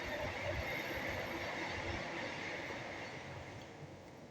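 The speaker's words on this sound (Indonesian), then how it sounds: "bentar ada kereta lewat." A train rolling past nearby, a steady rumble of wheels on rails with a faint high squeal, gradually fading toward the end, with no talking.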